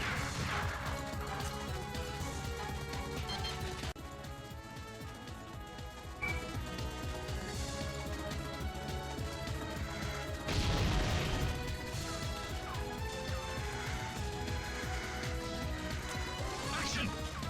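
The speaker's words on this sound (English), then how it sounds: "Shotgun." Shotgun blasts in an emulated retro video game on a Raspberry Pi or Orange Pi setup, sharp crashing shots over continuous game music, fairly quiet, with a voice speaking.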